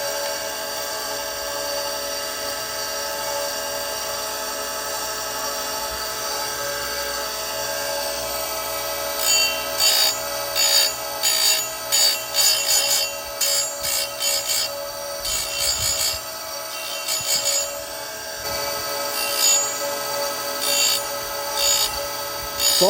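An Oregon 410-120 grinder fitted with a CBN wheel sharpens saw chain: a steady, loud motor hum runs throughout, broken midway by a series of short rhythmic grinding rasps as each tooth is touched to the wheel.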